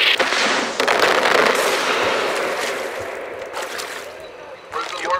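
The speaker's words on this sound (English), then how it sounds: "Oh my god, we're getting mortared." Mortar shells bursting nearby in Far Cry 4 combat, a loud rolling roar of explosions and crackling debris that swells early, fades through the middle and flares again at the end, with a voice briefly breaking in.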